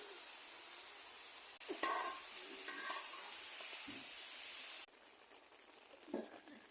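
Water lily stems cook in a pan with coriander powder, giving a steady close hiss and sizzle that swells loudly for a few seconds, then drops back to a softer simmer with occasional stirring.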